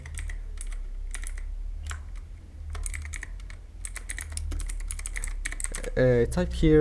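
Quick bursts of clicking keys on a computer keyboard, irregular and close, with pauses between runs of typing; a voice begins speaking at the very end.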